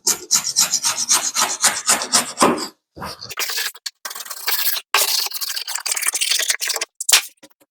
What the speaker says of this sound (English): I'm going to start scraping this down